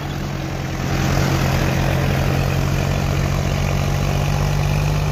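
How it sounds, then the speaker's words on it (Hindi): A John Deere 5050D tractor engine runs steadily in third gear with a 250 kg front bumper fitted, a loud, constant low diesel drone with a fast regular throb and no pauses. "भाइयों थर्ड ए गियर में चल रहा है ट्रैक्टर।"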